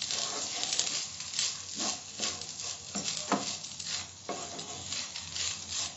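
Methi pulao rice is fried and stirred in a pan, producing a close, continuous sizzle with repeated soft scraping sweeps of the spoon through the grains.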